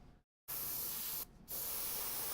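A paint spray gun at 22 psi with a .3 needle hisses in steady close bursts, with a brief silent gap near the start and a short dip midway, while batches of army miniatures are painted.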